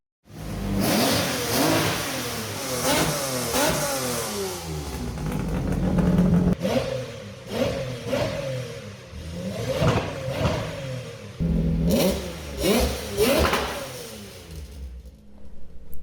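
V12 engine revs through an exhaust fitted with mufflers, repeated loud throttle blips rising and falling in pitch with rough, raspy tone, close up with short idle gaps between revs.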